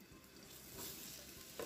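Onions and mixed vegetables sautéing in a pan for Korean japchae, a soft steady sizzle with stirring scrapes, faint and close, with no voices.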